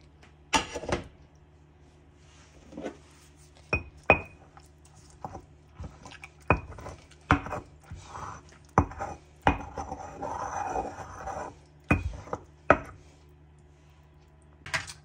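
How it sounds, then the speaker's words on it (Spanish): Chiles are ground in a stone molcajete, heard as irregular close knocks and gritty grinding scrapes of pestle on stone, with short pauses between strokes and no talking. "ya están los chiles, ahora los vamos a moler. Acá en el molcajete"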